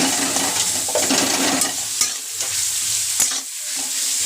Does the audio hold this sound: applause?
no